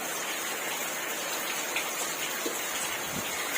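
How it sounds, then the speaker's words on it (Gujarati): Steady rain pours down at night during monsoon Magha nakshatra, a dense continuous hiss of drops with a few louder patters close by, no voices present. "તો જો વરસાદ જો દોસ્તો, વરસાદ વરસાદ વરસાદ વરસાદ।"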